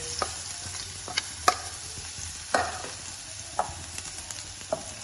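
Coarsely crushed garlic cloves, about twenty of them, frying in a pan with a soft steady sizzle, broken by several sharp clinks and scrapes of a spoon stirring.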